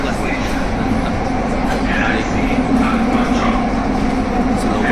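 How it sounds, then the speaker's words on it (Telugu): Underground metro train in Mumbai near Churchgate running fast, a loud steady rumble and rail clatter heard from inside the carriage, with faint voices in the background. "చూడొచ్చు ఇక్కడ ఎంత ఫాస్ట్గా వెళ్తుంది ట్రైన్ అండర్ గ్రౌండ్."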